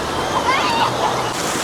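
Water from a Typhoon Lagoon wave pool sloshes and splashes up close around the listener in one brief burst, with crowd babble in the background.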